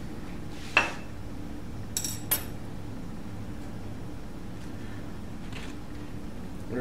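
Glassware from an electrolyte conductivity demonstration clinks a few times, one sharp knock near the start and two lighter taps close together shortly after, against a quiet room background.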